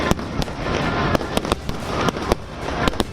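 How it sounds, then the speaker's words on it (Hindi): Fireworks burst over the Golden Temple in Amritsar on a Baisakhi night: a rapid run of sharp, loud cracks and bangs over continuous crackling, fairly close and with no talk. "रात होते ही गुरुद्वारे परिसर में आतिशबाजी शुरू हो गई"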